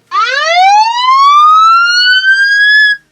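A loud SOS siren alarm blares from the speaker of an Oukitel WP19 rugged phone, a single rising wail that climbs steadily for about three seconds and then stops sharply, heard alone without talking.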